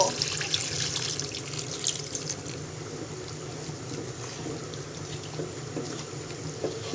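Water runs into a kadai of spiced potato, cauliflower and bean pieces. A steady, fairly quiet splashing pour is heard close by, with light drips and a faint sizzle underneath and no voices.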